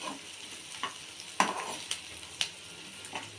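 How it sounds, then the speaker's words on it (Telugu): Onions sizzle in hot oil in a pan for a boti (tripe) curry while a spoon stirs them, producing repeated scraping strokes over a constant crackling fry, close and clear with no speech. "ఉల్లిగడ్డలు ఎర్రగేంతవరకు వేసుకుందాం"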